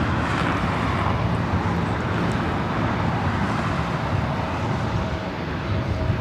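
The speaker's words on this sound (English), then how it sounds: "The Lufthansa Queen taking off on the south side" A Lufthansa Boeing 747 taking off on the south side at LAX, a continuous loud broadband engine roar with a deep rumble that stays steady throughout.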